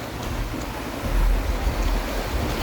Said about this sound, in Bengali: এখন যে পানিগুলো বেশি উঠে গেছিল সেই পানিগুলো এখান দিয়ে নামতেছে